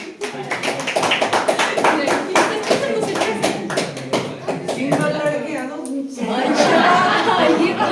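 Classroom clapping rings out in a burst of quick, uneven hand claps from students, mixed with chuckles and chatter, swelling again near the end.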